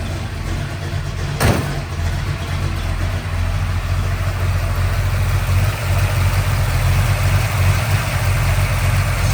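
A 1969 Chevrolet Camaro Z/28's DZ302 V8 idles steadily with a deep, rumbling low-end throb that stays constant throughout, close up and loud with no talking.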